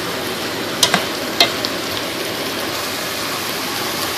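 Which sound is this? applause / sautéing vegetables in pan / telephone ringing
sautéing vegetables in pan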